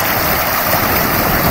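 The main falls of Dainthlen Falls near Cherrapunji pour steadily as a loud, even roar of rushing water with no break.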